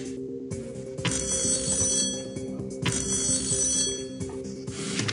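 A banker's phone rings in an online slot bonus game with a deal-or-no-deal format: two loud, trilling electronic ring bursts about two seconds apart over a constant background music bed.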